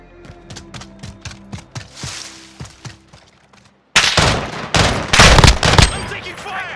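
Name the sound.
gunfire in video game Call of Duty Modern Warfare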